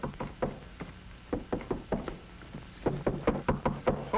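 Rapid knocking on a wooden door, in several quick irregular bursts of raps, fairly close and clear with no talking.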